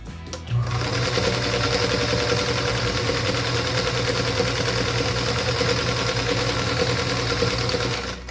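A sewing machine runs steadily while stitching quilt block pieces for a Wandering Star quilt, a continuous close, loud mechanical whir with a fast even rhythm lasting throughout.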